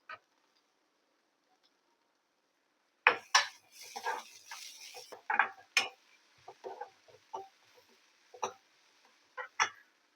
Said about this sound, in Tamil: பீன்ஸ் கொஞ்சம் பெருசாக போட்டிருக்கிறதுனால கொஞ்சம் வதக்கி விடுவோம்